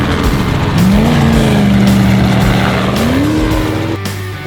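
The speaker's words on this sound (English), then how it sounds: "Side-by-sides are fantastically quick in this treed section" A side-by-side off-road vehicle races through a treed section of the 2019 Gascoyne Dash prologue, its engine roaring loud and close with a steady drone that climbs in pitch as it accelerates.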